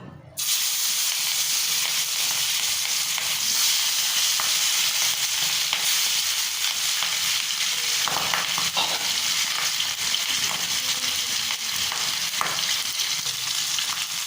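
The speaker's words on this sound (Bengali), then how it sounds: "মাছের পিসগুলো লালচে করে ভেজে নিয়েছি।" Rohu fish pieces fry in hot mustard oil in a kadai, giving a dense, loud, continuous sizzle that starts abruptly and holds steady throughout, with occasional faint crackles and no talking.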